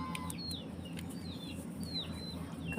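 Chickens being fed give a few faint clucks and chirps over a steady low background hum, fairly distant and quiet throughout.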